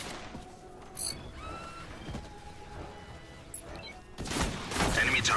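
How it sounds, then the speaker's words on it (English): An enemy turret opens fire in the squad PvP shooter The Cycle, with a short burst early and heavier rapid firing near the end, amid in-game sounds and faint voices. "Enemy turret has opened fire"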